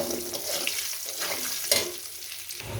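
Potato pieces fry in a pan with a dense, close sizzle and hiss, a few light scrapes and a small knock partway through, fading slightly at the end.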